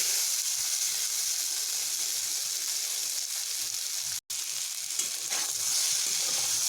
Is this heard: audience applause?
no